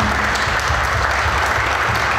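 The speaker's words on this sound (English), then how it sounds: "Let's give our partner, Reliable Carriers, a round of applause." Steady, dense applause from a crowd at a drag racing event, loud and continuous throughout with no pauses.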